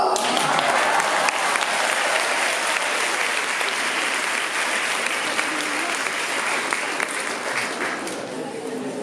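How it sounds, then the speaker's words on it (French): Audience at a conference on vaccines at an organic fair in Besançon applauding a speaker, sustained crowd clapping that stays full and even, with faint voices mixed underneath. "Vous l'applaudissez"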